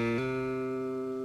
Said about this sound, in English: Now the hammer-on should sound like this.